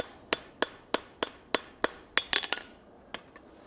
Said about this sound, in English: Should only take a few quick blows to rivet that, and then some to round this up.